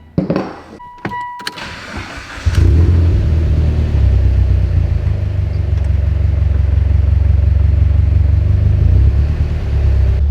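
After a few clicks and rattles, a car engine settles into a steady, loud low rumble at idle following replacement of a destroyed MAF sensor seal, running evenly with no talking.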